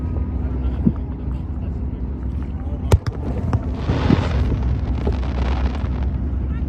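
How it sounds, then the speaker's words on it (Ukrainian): Several distant firework bangs and crackles, one sharp loud pop midway, over a steady boat engine rumble and faint background voices. "Ще останні такі салютики."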